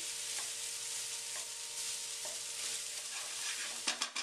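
Ground beef browns in a pan with a steady, close sizzle and occasional stirring scrapes, ending in a few sharper clatters of the utensil against the pan, with no talking.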